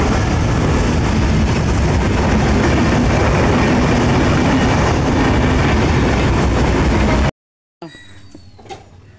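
A train rumbles past close by with loud, continuous clattering of wheels on rails, filling the scene for several seconds before cutting off abruptly, followed by quieter background noise.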